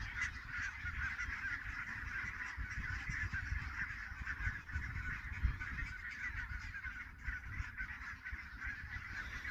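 A large flock of brent geese honks continuously, a dense chorus of overlapping calls at moderate distance over steady low background rumble, with no voices.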